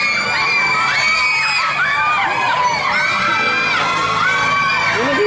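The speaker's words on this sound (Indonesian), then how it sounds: "Kenapa sih pada teriak gitu? Tinggal naik doang, pakai teriak-teriak ya." Crowds of riders scream and shriek on an amusement park ride at Dufan in Jakarta, overlapping high-pitched yells rising and falling continuously, loud and close.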